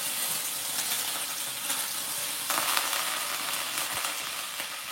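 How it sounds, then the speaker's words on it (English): Mustard seeds and curry leaves frying in hot oil in a pan, a steady loud crackling sizzle with sharp pops and splatters throughout, up close with no talk. "I'm gonna lower this because I don't want it to, so you see how that's splattering?"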